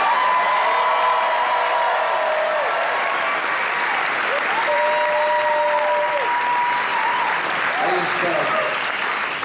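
An opening-night Broadway audience applauds steadily through a curtain call, a dense, even clapping that lasts throughout while a voice speaks over a sound system.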